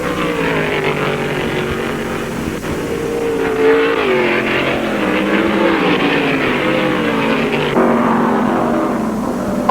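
Stock cars roar around the track at the 1974 World 600, a steady, loud engine drone with shifting pitch as the cars pass and run side by side through traffic.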